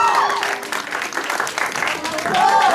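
Guests at a quinceañera applaud and cheer for the birthday girl's couple and her chambelán. The clapping is lively and close, mixed with voices and music, and it swells again toward the end.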